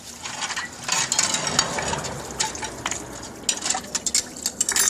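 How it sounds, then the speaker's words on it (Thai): Dishes washed by hand after work, with scattered clinks and clatters of plates and utensils, splashing water and scrubbing, close and irregular, no talk. "เลิกงานเสร็จแล้วก็ล้างจานครับ"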